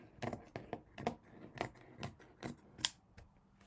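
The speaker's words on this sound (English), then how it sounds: "Let's trim this a little bit." Scissors snip through fabric scraps being trimmed for a scrappy sewn beetle: about a dozen crisp, close cuts fall in an irregular rhythm, quiet overall, with one sharper snip near the end.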